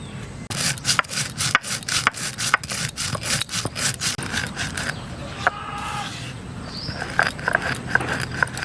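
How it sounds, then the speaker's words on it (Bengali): Fenugreek seeds being ground by hand for a sour fish curry: a steady, loud rhythmic rasping and scraping of stone strokes, close up, with a brief pause midway. "মাছের টকের জন্য কিছু মিথি আমি বেটে নেব।"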